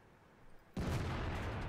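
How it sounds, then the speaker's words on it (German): A T57 Heavy Tank fires its cannon in World of Tanks, one sudden loud blast followed by a sustained roaring rumble, close and alone with no talk. "Der erste Schuss von 4 ist schon verschossen worden."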